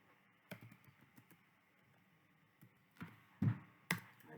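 Quiet clicks of a computer keyboard as a spreadsheet formula goes in, a few light scattered taps followed by louder, firmer keystrokes, close and with no talk.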